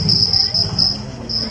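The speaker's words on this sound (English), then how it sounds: "Let me play for you the sound of cricket." Cricket chirping played back from a small voice recorder at a zoo bird show: a loud, high, trilling chirp repeating in short bursts with brief gaps, close and clear.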